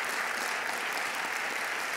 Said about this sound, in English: Please give a huge round of applause for the Cohort 7 founders